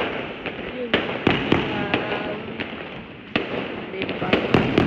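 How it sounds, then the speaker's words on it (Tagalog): Firecrackers and fireworks burst all around houses on the last day of Chinese New Year, a dense crackling roar with repeated sharp nearby bangs and a rumbling background of more distant explosions. "Lahat ng paligid ng bahay may paputok."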